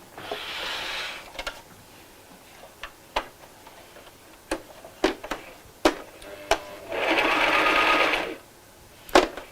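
A sewing machine stitches a tote bag in two short bursts of fast, even whirring, with scattered sharp clicks and ticks from handling the machine between runs.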